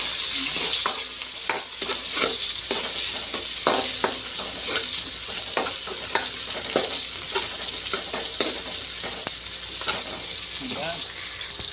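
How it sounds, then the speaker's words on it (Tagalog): Onions frying in a pan for adobo, a dense continuous sizzle with repeated scraping knocks from a spatula stirring in uneven rhythm. "Lagyan na natin yan sibuyas dyan"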